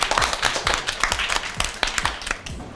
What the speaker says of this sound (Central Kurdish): یەک چەپڵەی بەهێز بۆ بەشدار